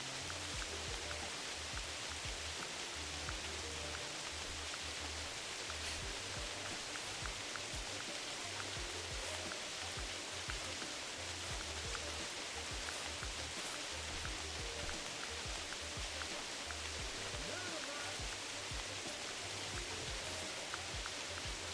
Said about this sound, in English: This dang rain is so freaking loud.